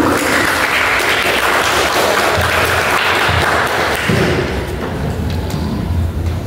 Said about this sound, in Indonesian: Mari tepuk tangan dulu untuk peserta kita yang di depan.